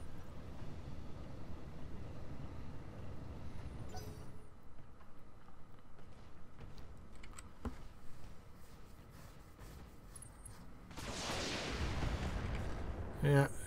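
Mech weapons firing in the BattleTech Flashpoint video game, with low booms and sharp shots around a muffled game soundscape, and a louder burst of fire toward the end.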